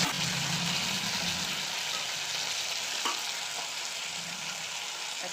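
Fish sizzle and crackle in hot oil while cooking a Bengali mustard-and-poppy-seed fish curry. The frying hiss is close, steady and continuous, with no talking.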